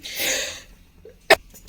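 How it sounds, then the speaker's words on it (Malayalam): A single sudden cough bursts out sharply near the end, preceded by a breathy exhale, in a quiet kitchen. "അപ്പോഴേക്കും ചുമ വന്നതാണ്."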